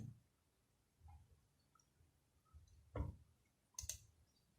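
A mouse clicks on the OK button in SQL Server 2014. A few quiet, sharp clicks stand out against a near-silent background, the clearest two arriving close together near the end.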